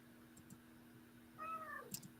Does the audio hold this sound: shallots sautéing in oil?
no